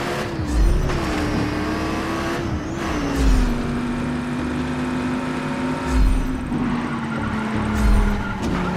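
A car drives in the video game Just Cause 3, its engine holding a steady hum that dips gradually in pitch, with periodic thumps and bumps as it travels and takes damage.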